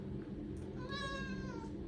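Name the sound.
cat meowing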